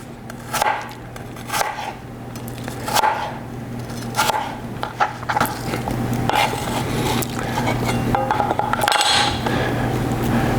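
A knife cuts apple into sections on a board, giving repeated sharp chops and scrapes about once a second over a steady low hum, with no voices.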